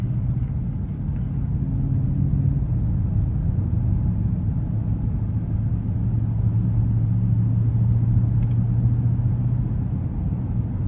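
A 2021 Mercedes-AMG GLS 63 with its 4.0-litre twin-turbo V8 in Sport Plus mode under light throttle, heard from the cabin as a steady low engine rumble with a deep drone, alone and continuous.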